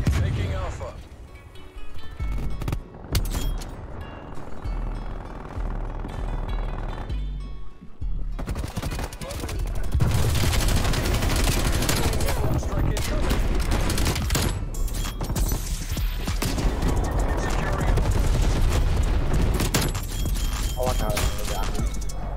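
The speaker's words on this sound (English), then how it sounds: "Multiple hostile sentry turrets working in the middle." Hostile sentry turrets fire in Black Ops Cold War: long, dense stretches of rapid automatic gunfire with scattered booms and breaking debris, building louder in the second half while a player talks over the din.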